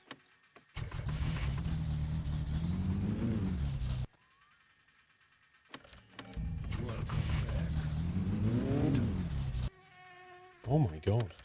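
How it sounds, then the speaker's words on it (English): Engine revving in the My Summer Car driving game, the car sounding more aggressive: two long, loud rising-and-falling revs with harmonic sweeps, separated by a quiet gap, then shorter bursts. "Car sounds more aggressive now."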